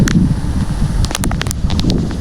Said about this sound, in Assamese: বহুত মানে ধুনীয়া বতাহ